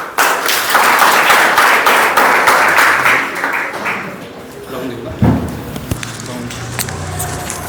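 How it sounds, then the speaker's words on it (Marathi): Audience applause at a college open mic event, dense clapping filling the first four seconds before fading into crowd murmur and scattered thumps. "टाळ्या वाजवा रे."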